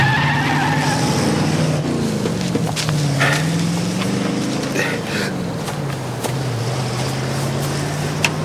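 A car revs hard and speeds away, its engine note rising and falling steadily with sharp tire squeals and skids cutting in. It stays loud and close throughout, with no talk heard.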